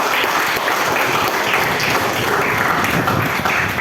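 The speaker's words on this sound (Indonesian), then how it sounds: "Mari kita beri tepuk tangan untuk kelompok 1." A high school classroom full of students applauds a student group steadily, a dense wash of clapping that holds at full strength throughout.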